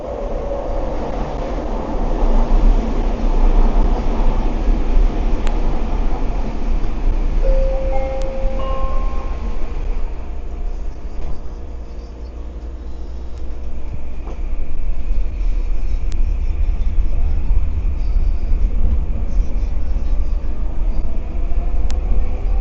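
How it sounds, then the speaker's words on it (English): A Vancouver SkyTrain rumbles steadily past for a long stretch, a broad rolling roar with brief high squeals and whines as it moves along. "there's another train heading this way"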